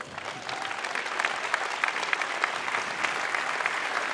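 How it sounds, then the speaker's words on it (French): A large conference audience claps for entrepreneurs on stage, a dense, even wash of applause from many hands that continues steadily without voices. "vous les applaudissez encore"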